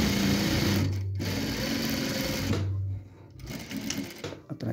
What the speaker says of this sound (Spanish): Entonces vamos a coser 1 centímetro de costura o de margen de costura.